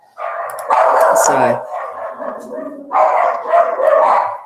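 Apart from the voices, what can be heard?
dogs barking indoors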